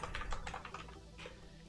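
A password goes in on a computer keyboard as a quick run of light keystrokes, faint and close, tapering off toward the end, no voices.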